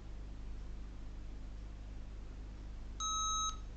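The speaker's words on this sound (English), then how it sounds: "Yeah, it is beeping because it needs a RAM memory." A Lenovo V110-15ISK laptop with no RAM installed gives one short, clear electronic beep near the end, heard over a steady low hum of room and fan noise.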